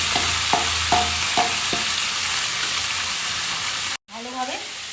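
Boiled potatoes and green peas frying in oil in a wok with dried red chilli, a close constant sizzle punctuated by a short series of regular scraping stirs, before a brief cut and a few quick kitchen knocks.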